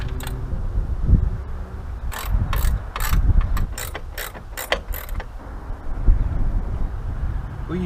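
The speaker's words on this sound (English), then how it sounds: "We'll use this wrench till I find the other one." A ratchet wrench turns a bolt while fitting disc brakes and an engine to a 1967 Chevy C10 pickup, giving several quick clicking bursts in the middle stretch, close and loud, over shop noise.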